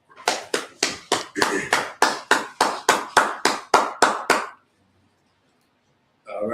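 Hands clapping during a church Sabbath service, about fifteen loud, evenly spaced claps close by in a steady rhythm that stops abruptly, followed by silence and a brief sound at the end.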